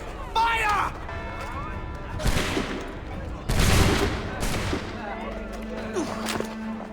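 Musket volley gunfire in the video game Assassin's Creed 3, several loud cracking blasts in quick bursts following a shouted command, with voices around them.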